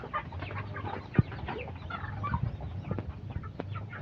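Chickens clucking inside a farm chicken house in the provinces, a dense chorus of nearby clucks and short calls over a low steady hum, without talk.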